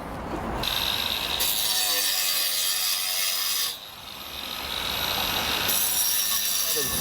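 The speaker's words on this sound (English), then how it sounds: "we'll use a grinder to create a groove right here" An angle grinder cuts a groove into a flat roof tile while flashing a chimney, a high whining grind in two bursts with a brief drop in the middle, close and loud.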